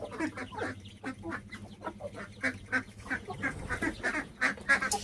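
Ducks quack and other poultry cluck in a busy, overlapping chatter, moderately close, with a low steady hum underneath.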